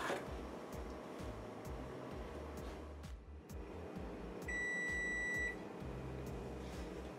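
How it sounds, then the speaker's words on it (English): An oven timer buzzer sounds once for about a second, a clear steady electronic tone over a low background hum and faint kitchen noises. "There is our buzzer."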